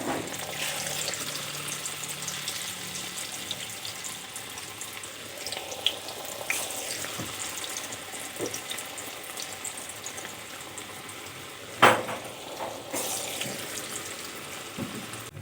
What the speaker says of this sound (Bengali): আবারও আমি বাকি পকোড়াগুলো ভেজে নেব একইভাবে